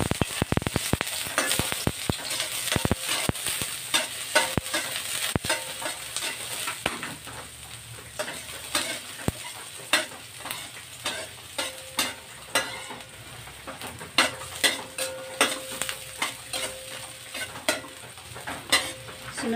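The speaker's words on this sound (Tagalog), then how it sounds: "At igigisa ko na yung aking sibuyas at luya." Onion and ginger sauté in a pan for sayote with shrimp, a steady sizzle broken by frequent sharp clicks and scrapes of a spatula against the pan, with no talking.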